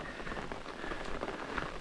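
Steady rain patters on a campsite along a long-distance hiking trail, a continuous soft hiss of drops with no voices, close and even throughout.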